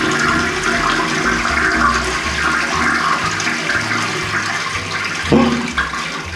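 A toilet flushes after its button is pressed, a steady rushing and swirling of water running for several seconds with a short clunk near the end, close and loud with no voices.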